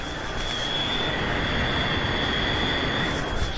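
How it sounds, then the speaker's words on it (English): A fan runs with a steady, even whoosh and a thin high whine on top, constant and fairly close, with no voices. "I don't know if you can hear this fan."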